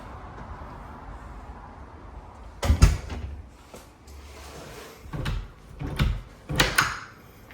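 A small hidden pantry door in an updated Maitland, Florida condo unit with LVP flooring opens with a few soft knocks and clacks, a couple of brief thumps spaced over several seconds against quiet room tone.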